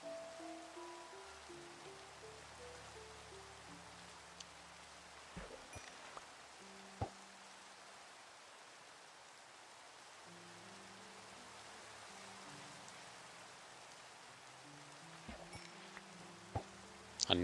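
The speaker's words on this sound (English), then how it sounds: "It's raining." Steady rainfall in the Minecraft video game, a soft continuous hiss that runs throughout, with faint in-game tones and occasional small clicks on top and no talking.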